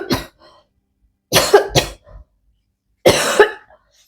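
A man coughing after choking, three separate bursts of harsh coughs, the later two in quick double and single fits, close and loud with silence between.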